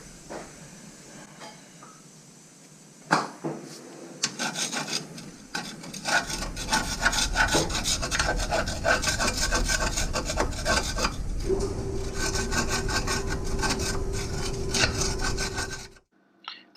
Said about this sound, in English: I'm just kind of scraping away for the new insulator pad to go on there.